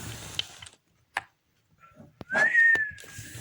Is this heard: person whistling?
yes